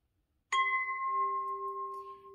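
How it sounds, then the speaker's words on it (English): A steady, pure 396 Hz electronic tone starts abruptly and holds at an even pitch, clean and sustained, with nothing else around it. "The tone that goes with the 69th name of God is number 396 and sounds like this."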